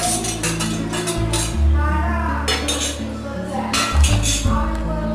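Cashews and raisins are stirred into milk payasam (paal payasam with ghee) in a pot off the stove, with repeated metal clinks of a spoon against the vessel over a low background hum.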